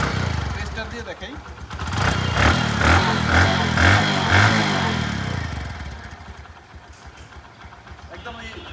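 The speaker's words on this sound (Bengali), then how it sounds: "মোটরসাইকেলটি সম্পূর্ণ স্টার্ট অবস্থায় আছে" A used 2022 Bajaj Discover 110cc motorcycle with about 4,135 km runs close by, its engine putting steadily. It swells louder for a few seconds, as if briefly revved, then settles back to a smooth idle.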